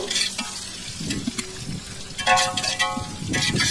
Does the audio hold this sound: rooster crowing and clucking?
no